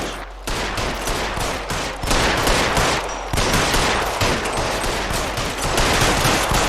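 Sustained gunfire in the L.A. Noire video game, rapid loud bursts of shots firing in close succession for several seconds, dense and near with no talking.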